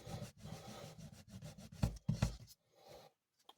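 A cloth rubs G-Wax into a piece of leather in close, rhythmic back-and-forth strokes, a soft scuffing that swells twice into heavier passes before stopping.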